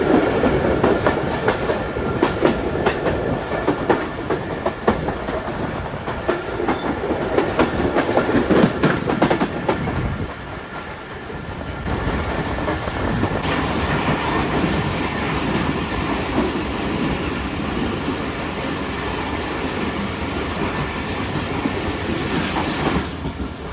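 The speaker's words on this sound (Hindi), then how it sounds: "ट्रेन हमारे मियाँ चन्नू से निकली है और ट्रेन की स्पीड कुछ इस तरह की है" Pakistan Railways passenger train running on the tracks near Mian Channu, a steady loud rumble with rhythmic clickety-clack of wheels over rail joints and faint wheel squeal, heard from onboard, continuous for the whole stretch with a brief dip midway.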